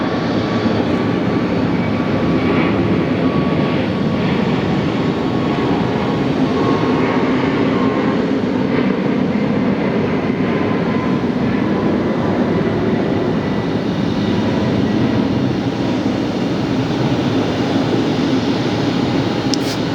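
A Southwest airliner flies at Phoenix Sky Harbor airport, a steady, loud broadband jet roar that holds evenly for the whole stretch with no voices.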